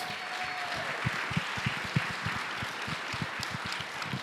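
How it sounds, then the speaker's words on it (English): An audience at the City of Weslaco's 2024 State of the City event applauds: a faint, steady patter of scattered hand claps with a few louder individual claps, heard alone. "let's give them another round of applause"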